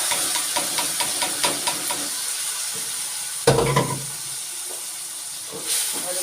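Chopped tomatoes and finely chopped green chillies fry in a pan with a steady hiss and sizzle, punctuated by soft clinks and one louder burst of spitting midway as the ingredients settle into the oil.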